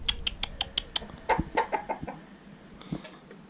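A rooster and hens cluck in a freshly cleaned chicken coop, a run of sharp, close calls followed by softer scattered clucks and rustling.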